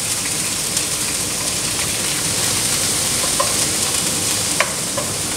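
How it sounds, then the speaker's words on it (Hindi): Garlic ginger paste fries and is stirred in hot oil for a mutton kofta curry, giving a steady, close sizzle with scraping stirs and small pops throughout, and no talking. "हमारा ऑयल गर्म हो चुका है, इसमें हम लहसुन अदरक का पेस्ट को शामिल करेंगे और अच्छे तरीके से इसको हिलाएंगे।"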